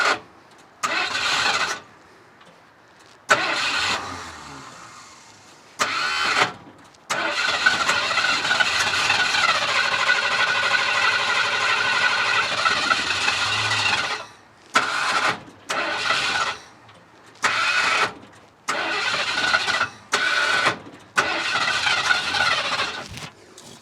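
A 1976 Ford F250 crew cab truck, abandoned for 20 years and with a weak starter and poor fuel supply, cranks loudly in repeated long and short bursts without catching, with quiet gaps between attempts and no talking.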